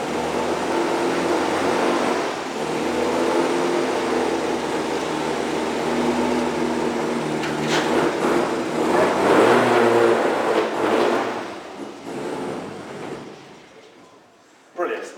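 A MINI WRC rally car drives onto the stage at a launch presentation, its engine giving a steady, fairly loud drone that swells briefly near the end, with people talking over it throughout.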